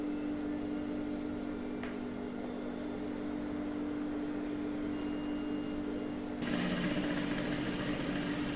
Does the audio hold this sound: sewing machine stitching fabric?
yes